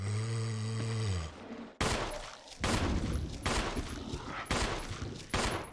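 Gunshots in the video game Resident Evil 1: a low tonal growl or moan fades out, then four loud, evenly spaced shots ring out, each with a sharp onset and decaying tail.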